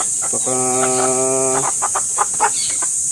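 A black hen gives a drawn-out tonal cluck followed by a few short, quick clucks, close by over a constant high hiss.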